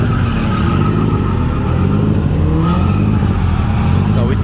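Nissan S15 drift car at Tsukuba Circuit, recorded onboard: a steady, loud engine roar blended with heavy wind buffeting, with faint tire noise toward the end.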